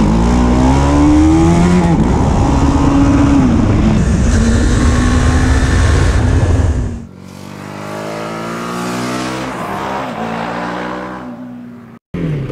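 A 2017 BMW G 310 R small-displacement motorcycle under way, its engine droning loud and close with a rising and falling pitch as the rider works through the revs, then a quieter stretch of engine and wind.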